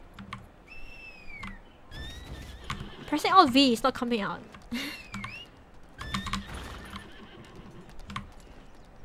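A horse summoned in the video game Lost Ark whinnies with rising, wavering cries, followed by clopping hooves and soft keyboard taps, while people talk over the game sound.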